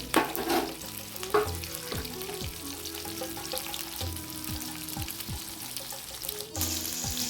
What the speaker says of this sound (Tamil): 1 கிலோ மட்டன், 200 கிராம் வெங்காயம் நல்லா வதங்கிட்டு